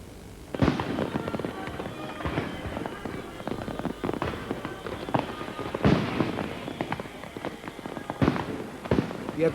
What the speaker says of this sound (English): Yet the fireworks were both celebratory and valedictory.